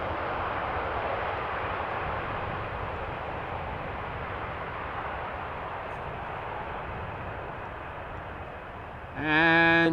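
Fixed-wing airplane landing on runway 18R at Amsterdam Schiphol: a steady, broad engine roar holds for nearly the whole stretch at moderate distance, then a brief louder burst with a higher ringing tone cuts in at the very end.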